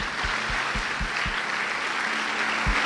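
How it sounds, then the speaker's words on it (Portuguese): A church congregation breaks into applause, a steady roar of many hands clapping, with a few louder low thumps near the front standing out above the crowd. "Give the Lord a clap offering."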